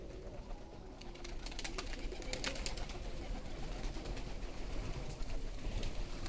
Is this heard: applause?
no